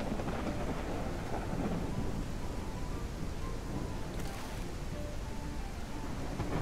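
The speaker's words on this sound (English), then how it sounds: "use the noise of the thunderstorm to my advantage" A thunderstorm rages in a dinosaur survival video game. Dense, loud rain and rolling thunder run continuously throughout, with no talking.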